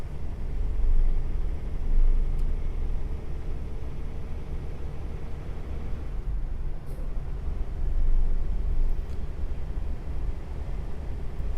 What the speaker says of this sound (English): We got Friday traffic going on.